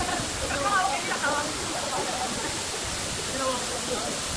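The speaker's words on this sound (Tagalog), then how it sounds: "Matlag Waterfalls" Batlag waterfall in Tanay, Rizal, giving a steady, dense rush of falling water throughout, with people talking faintly beneath the roar.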